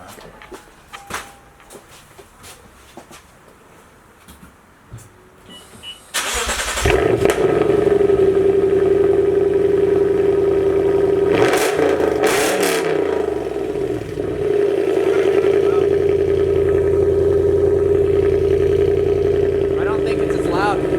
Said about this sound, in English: it still had a nice pop and gurgle